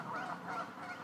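Geese honking in a back-and-forth exchange, with lower-pitched male calls answered by higher-pitched female calls, a brief close run of nasal honks heard alone.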